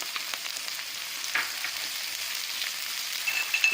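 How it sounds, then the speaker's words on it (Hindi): Capsicum and carrot stir-fried in a pan for veg chowmein give a steady, close sizzling hiss with a few light scrapes, and a brief louder flare of frying near the middle. "अब इसके साथ ही हम ये बाकी की सब्जियां डाल देंगे। ये शिमला मिर्च है, और ये गाजर भी डाल देते हैं।"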